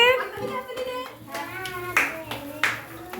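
A few sharp hand claps ring out at a birthday celebration, spaced irregularly and mixed in with people's voices nearby.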